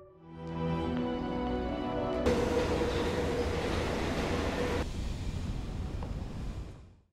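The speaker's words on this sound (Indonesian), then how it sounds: "Julia yang sudah merasa kesal pada Franz memilih untuk pulang saja dengan menaiki kereta api." A train sound effect opens with a sustained, tonal horn-like blast, then shifts into a loud, steady rushing rumble of a train in motion that eases off and fades out at the end.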